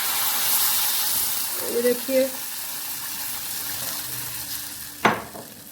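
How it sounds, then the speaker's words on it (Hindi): Water poured into roasted semolina in a hot pan for halwa gives a steady broadband sizzle and bubbling hiss, with a brief sharp clink near the end and a short spoken remark over the cooking noise. "इसमें तकरीबन मैंने 2 गिलास पानी ऐड किया है"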